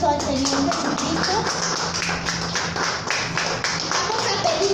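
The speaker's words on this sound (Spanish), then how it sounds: "Vamos a darle un fuerte aplauso al Señor Jesucristo." Clapping from a church congregation at a Spanish-language service, rhythmic hand claps mixed with voices and music-like tones at moderate loudness.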